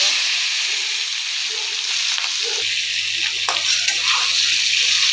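Chickpeas and boiled potatoes hiss and crackle in hot oil in a wok with a small dried red chilli, a steady close sizzle that thickens partway through as more food hits the pan; no one speaks.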